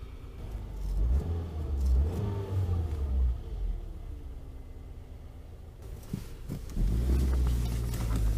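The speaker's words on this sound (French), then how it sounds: "Et ça tourne rond comme une horloge avec le modèle injection." A 1996 Peugeot 306 1.6 injection, 90 hp, idles steadily with a low, even engine rumble close by, running smooth with no knocks, and no one speaks.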